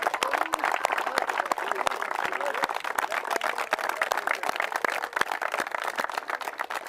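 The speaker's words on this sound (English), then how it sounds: "Give them a round of applause." An audience applauds at a T10 European Cricket event, a steady crackle of many hands clapping at moderate distance, with faint voices under it.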